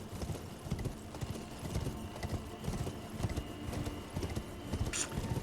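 Steady clip-clop of horse hooves while riding through an early game area of Elden Ring, a continuous galloping rhythm at close range with a brief bright burst near the end, no voices.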